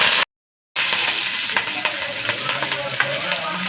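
Cumin seeds and curry leaves crackle and spit in hot oil for a goat head curry, a loud close sizzle full of sharp pops after a short silent gap at the start.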